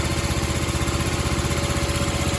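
A repaired 1976 Sears ST12 lawn tractor engine idles steadily up close, with a continuous, even putter and a mechanical hum that stay loud throughout.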